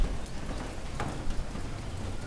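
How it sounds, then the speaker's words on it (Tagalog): Light rain beginning to fall under a darkening sky, pattering down in a soft continuous wash, with a brief louder burst around the middle and a low rumble underneath. "Umaambo na. Bubuhos to."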